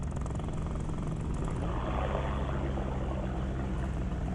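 Small aircraft engine with a new carburetor droning steadily and loud during flight, a continuous buzzing roar with rushing wind and no break in the sound.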